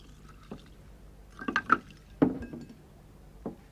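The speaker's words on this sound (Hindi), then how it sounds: "इस ग्लास में पिसी हुई बर्फ भरी है। अब हम इसमें पानी भरते हैं।" Water is poured into a glass filled with crushed ice, with soft trickling and faint icy clinks and knocks coming in a few short clusters at low volume.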